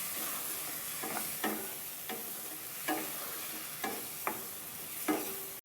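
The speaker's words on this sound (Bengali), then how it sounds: "এবার আমি ভালো করে আলুটার সাথে মশলাটাকে কষিয়ে নিচ্ছি।" Potatoes and spices frying in a pan for a puti fish curry with mustard and poppy seed, a steady sizzle broken by about seven sharp spatula scrapes and stirs at regular intervals, no voices.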